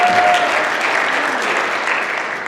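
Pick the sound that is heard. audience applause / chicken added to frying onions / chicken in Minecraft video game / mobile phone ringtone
audience applause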